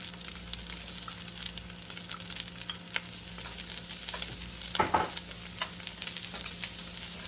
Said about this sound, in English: Maybe I'll put the garlic in here.